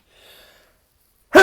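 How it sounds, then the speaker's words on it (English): A single sudden, loud sneeze bursts out at the very end, after a faint breathy intake and near silence. "Oh my god, I'm sneezing."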